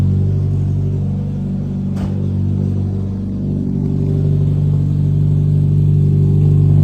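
A Mazda Miata engine idles steadily close by after a cold start, a low continuous rumble with a brief click partway through and no voices.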